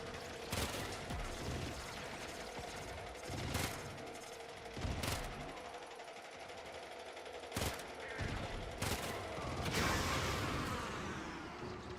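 Gunfire in the video game Warframe: scattered sharp shots and short automatic bursts over a steady game background, moderately loud, with a whooshing sweep near the end.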